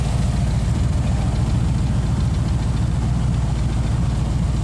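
Steady low rumble of a Ford flathead engine idling in a 1930 Ford pickup hot rod roadster with steel body and automatic transmission, close and continuous with no talk.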